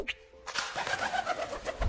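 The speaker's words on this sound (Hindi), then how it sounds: "कबूतर जब अपने पंखों को फड़फड़ा के उड़ता है तो कुछ ऐसी आवाजें आती हैं।" Pigeon wings flapping in a fluttery takeoff, with a sharp burst of wingbeats near the start followed by a dense, steady flurry of flapping at close range.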